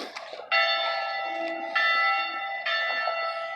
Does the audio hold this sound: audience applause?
no